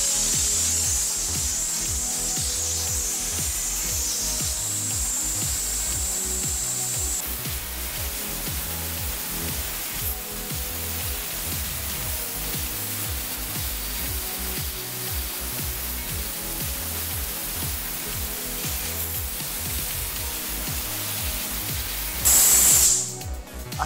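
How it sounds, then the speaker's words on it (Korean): Hot steam from a steam cleaner sprays steadily while a car is washed ahead of a trip to the scrapyard, a continuous close hiss with a rough, rubbing texture, louder and harsher for the first seven seconds and rising briefly near the end. "아 일단 한번 이거 스팀이 어느 정도 센지 한번 보여드릴게요."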